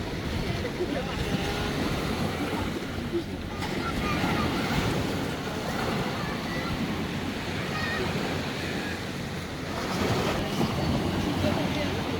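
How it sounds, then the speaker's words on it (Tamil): Ocean waves crash and swirl against the shore at Saint-Malo in Brittany, a continuous loud roar of surf with heavy wind buffeting the microphone throughout. "இந்த அலை வந்து ஒரு டிஃப்ரெண்ட்டாக சுழட்டி அடிக்குது"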